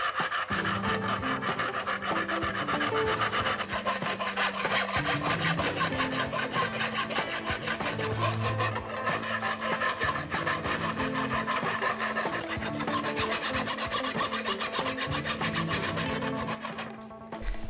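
Metal file rasping over bumps on an epoxy resin wood board with turquoise stone, a continuous close scraping in steady back-and-forth strokes and no talk.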